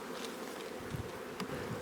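Honeybees hum at the hive in a continuous close buzz, with a few individual bees droning louder as they pass near, during pre-wintering frame work.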